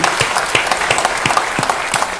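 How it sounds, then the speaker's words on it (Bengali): Loud, steady applause from an audience at a Bangladesh Television "Notun Kuri" award ceremony, dense clapping sustained evenly throughout with no speech over it. "তাদেরকে আমরা একটা জোরে হাততালি দিই"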